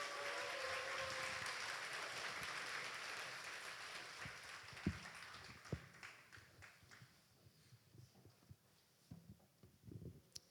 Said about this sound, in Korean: 큰 박수 한번 줄까요?